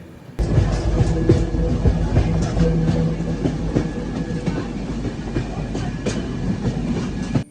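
A passenger train runs through monsoon rain between Bangalore and Mangalore, heard from near an open door: steady loud rumble of carriages with rhythmic clickety-clack of wheels over rail joints and rain hiss, continuous throughout with no talk.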